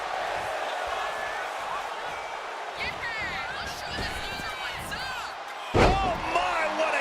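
A heavy body slams onto the mat from a splash move in the WWE 2K25 wrestling video game. One loud thud lands near the end over steady arena crowd noise and continuous commentary.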